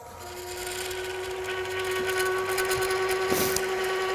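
A Wagner texturing tool with 12 teeth per inch pressed against spinning wood on a lathe gives a steady, close, continuous whirring buzz with a sustained high tone, swelling briefly near the end.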